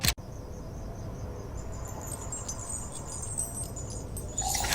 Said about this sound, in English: It's nighttime clearly, so we would need nighttime ambience.